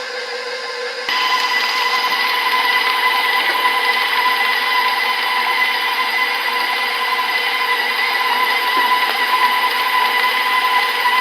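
A stand mixer with a plain paddle beats cheesecake batter in a steady, even motor whir that starts abruptly after a second and runs unbroken, with faint occasional ticks, no talk.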